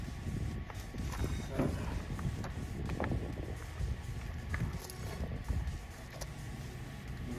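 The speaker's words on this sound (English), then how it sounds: "And here comes the wind, of course." Steady outdoor wind buffets and rumbles across the microphone throughout, continuous and fairly loud, with occasional faint knocks behind it.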